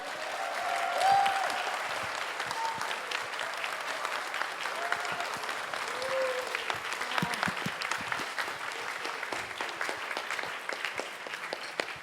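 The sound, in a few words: audience applause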